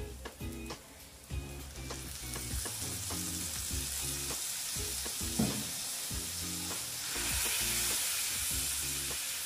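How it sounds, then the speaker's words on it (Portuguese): Soy sauce hits golden garlic frying in a pan, a quiet steady sizzle under soft repeated knocks from stirring, with the hiss swelling brighter toward the end, no talk. "E agora, gente, eu vou estar acrescentando aqui 4 colheres de shoyu"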